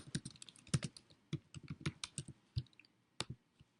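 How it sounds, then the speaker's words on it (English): Quiet, close clicking of fingers typing on a computer keyboard, an irregular run of short keystrokes with small pauses, heard alone with no speech. "We're going to type in standard shipping."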